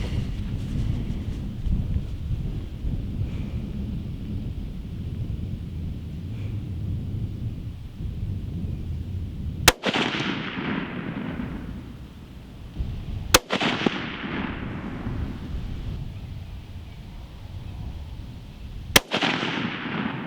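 A Savage Model 11 Hunter XP rifle in 6.5 Creedmoor fires three loud, sharp shots several seconds apart outdoors, each crack trailing a rolling echo over steady background noise.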